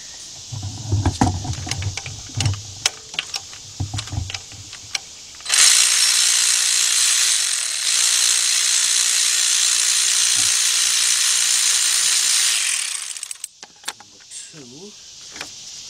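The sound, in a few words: ratchet removing a bolt on a timing chain job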